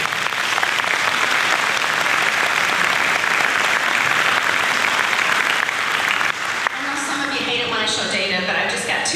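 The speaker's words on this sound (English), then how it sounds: "So let's applaud you." College staff gathering applauding at an all-college day, sustained full-room clapping for about six seconds, then cutting off as a speaker resumes talking.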